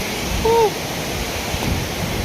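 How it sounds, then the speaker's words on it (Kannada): Hebbe Falls waterfall roaring steadily as a dense broadband wash, close and continuous, with a brief faint whistle-like tone early on. "ಹೆಬ್ಬೆ ಫಾಲ್ಸ್ ಹತ್ರ ಬಂದಿದ್ದೀವಿ ಸ್ನೇಹಿತರೆ"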